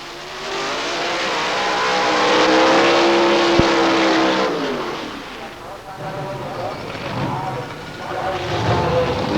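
Pro Stock drag cars at the 1990 Winternationals at Willowbank, Australia, roar loudly and near, with sustained revving and engine tones rising and falling. An announcer talks over them.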